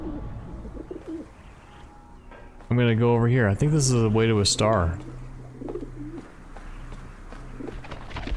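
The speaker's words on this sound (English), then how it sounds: "Birds!" Soft, rolling dove-like coos ring out loudly for a couple of seconds in the middle of a scene in the video game The Talos Principle: Reawakened, while someone talks before and after.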